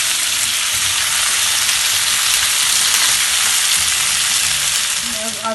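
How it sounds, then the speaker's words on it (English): Potatoes frying in hot oil with cumin seeds, a loud, dense and steady sizzle close by that holds evenly throughout, with no one talking. "I'm going to toast these potatoes for next 2 to 3 minutes in this jeera and oil"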